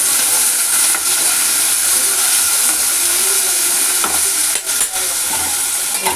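Green chillies fry in hot oil with a loud, steady hiss and sizzle, close up, with faint stirring scrapes and a few louder crackles.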